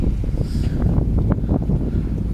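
Steady wind buffeting a microphone on a sailboat out on open water, a constant low rumble with faint splashing, loud and close throughout.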